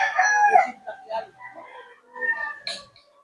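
Close roosters bred for cockfighting crow and cluck in drawn-out calls, overlapping with a voice talking nearby through much of the stretch.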